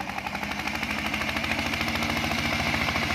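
An old farm tractor engine drives a homemade rice mill, chugging in a fast, even mechanical rhythm with a harsh rattling drone, loud and close, with no talk.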